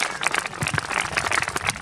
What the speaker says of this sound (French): Donc, applaudissez-les.